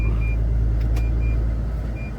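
A large trailer truck approaches, a heavy, continuous low rumble of the engine that fades slightly toward the end.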